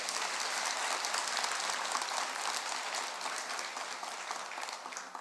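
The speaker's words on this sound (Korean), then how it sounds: "박수 한번 크게 치고" An audience at a Buddhist dharma assembly applauds in a steady, even wash of many hands clapping, somewhat distant and uninterrupted, with no voices over it.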